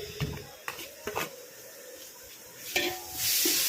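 Ginger garlic paste sautéing for seeraga samba mutton biryani over a wood-fired stove, giving a soft sizzle with scattered clinks and scrapes of a ladle stirring in the pot, loudest toward the end.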